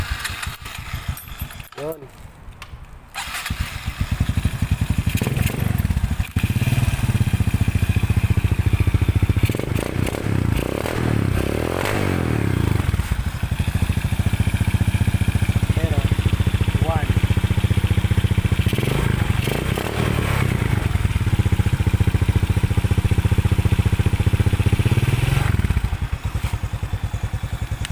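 A Honda Smash 115 motorcycle engine with a 24mm carburetor and racing CDI starts after a brief rattle and settles into a loud, steady idle close by, with occasional blips; someone speaks briefly.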